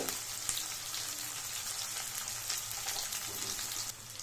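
Green chilies, garlic and ginger fry gently over a low flame, producing a faint, steady, fine sizzling hiss with occasional soft pops.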